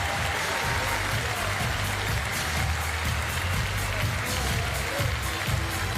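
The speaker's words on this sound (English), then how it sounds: "shake hands and take the plaudits of the crowd" Crowd applause fills a Paris arena after a Paralympic goalball match between Ukraine and Japan, a steady, dense wash of clapping at moderate distance that holds for several seconds with no talk over it.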